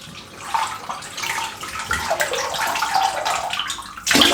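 Tap water runs steadily to soak a shaving brush before working up an artisan shaving soap, a close, continuous splashing rush that swells and thins as the brush moves under the stream, then ends with a louder burst.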